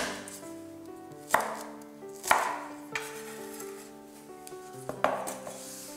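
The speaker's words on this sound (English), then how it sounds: "cut the green parts into about 3 inches in length" A knife chops spring onions on a board for a Mongolian beef stir fry: a handful of sharp, separate strikes at irregular intervals, close and fairly crisp over a quiet kitchen background.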